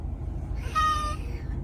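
A cat gives a single clear meow, close and moderately loud, over a low steady background hum.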